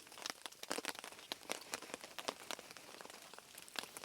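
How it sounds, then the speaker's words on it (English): Steady rain patters on a tent or tarp at a stealth camp on Crown land, a dense, close crackle of individual drops striking the surface, quiet but continuous. "It's been raining steady for quite a while."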